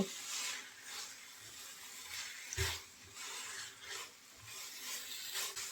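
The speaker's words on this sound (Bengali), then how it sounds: "ঘি দিয়ে সুন্দর করে নেড়ে চেড়ে মিলিয়ে নেব" Carrot barfi mixture with ghee gets stirred in a pan, with soft scraping strokes repeating about once a second over a faint background hiss.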